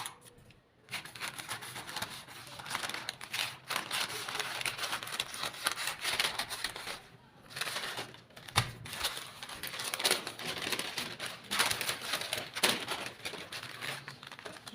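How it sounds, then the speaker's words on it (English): Scissors cut through fabric for a baby frock in a long run of crisp snipping and rustling, close by. The cutting breaks off with short pauses and no one speaks. "So I'm going to cut this out."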